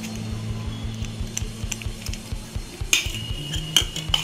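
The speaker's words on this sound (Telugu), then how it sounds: "వేసుకొని బాగా కలుపుకోవాలండి ఈ ఎగ్తో ఈ పిండి మొత్తాన్ని" A utensil scrapes and taps rhythmically in a bowl while egg is mixed into okra bajji batter, steady close clinks with a few sharper knocks toward the end, no speech.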